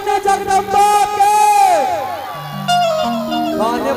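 A devotional crowd at a live Maithili Bhagavati hymn performance shouts a jaykara cheer, loud massed voices rising and falling together over sustained musical tones across the few seconds.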